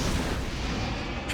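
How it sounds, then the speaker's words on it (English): The exploding blood demon art in the Demon Slayer Hinokami Chronicle game bursts as a loud, dense roaring blast with booming low rumble, sustained for about a second. "Blood demon art. Exploding blood!"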